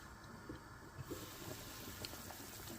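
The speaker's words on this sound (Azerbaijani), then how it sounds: "amma nə qədər alçaqda da olsa, yenə gür qaynayır" Meat simmering in a pot on low heat but still boiling vigorously, a steady close bubbling wash with small pops, continuous and fairly faint with no talk.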